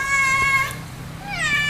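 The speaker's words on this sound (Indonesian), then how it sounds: "Kucing liar mau masuk YouTube." A stray cat meows twice near a Hyundai Coupe GT (Tiburon) during basic servicing, two clear drawn-out calls separated by a short pause over a low background hum.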